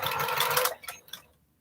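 A sewing machine stitching a quilt runs steadily and close with a dense whirring buzz, then stops and ends in a few soft mechanical clicks before going quiet.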